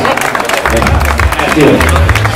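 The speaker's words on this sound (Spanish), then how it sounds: "un aplauso bien merecido para Roberto y Miguel Valles" Crowd applause for runners crossing the finish line at the Corsarios de Llanes race, steady clapping and crowd noise under a loud announcer voice throughout.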